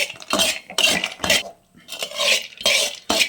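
Pistachios being roasted in a pan, stirred with a metal spoon in repeated scraping, rattling strokes, close and fairly loud with short pauses between.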